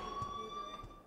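Alarm ringing in the Life is Strange video game, a steady electronic tone held throughout a brief, fairly faint moment.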